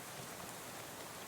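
Rain falling in the video game Shadows Over Loathing, a steady dense patter of drops heard alone at moderate level.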